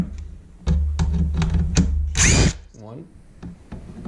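A power driver backs screws out of a Brondell Cypress water filter housing in several short whirring bursts, close by, with someone talking between them.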